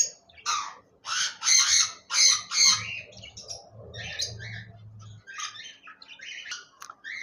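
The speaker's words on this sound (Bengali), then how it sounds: "জেব্রা ফিন্স পাখি রয়েছে, রানিং পেয়ার" Zebra finches in a cage give loud, nasal squawking calls in quick bursts, close by, followed by softer chirps and a low rustling murmur.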